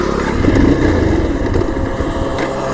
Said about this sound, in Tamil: ஆஃப் ஆகுது. ஆஃப் ஆகிடுது வண்டி.